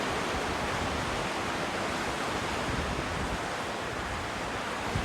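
Steady ocean surf washes onto a beach in Sligo, Ireland, a continuous broadband roar of breaking waves with no gaps, loud and close, mixed with some wind rumble and no voices.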